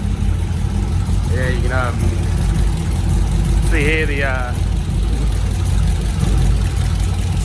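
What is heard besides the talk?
Mazda RX8 rotary engine with 180 degree headers idling rough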